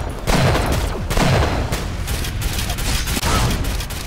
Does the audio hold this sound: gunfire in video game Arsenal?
yes